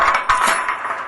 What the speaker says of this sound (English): drop it through the washer nut, just a few turns